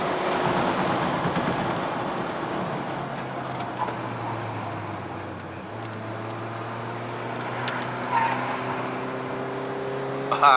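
A Honda Civic FB 2.0S engine heard from inside the car revs with a steady drone whose harmonics climb and settle as it pulls, fairly loud and close, with no talk.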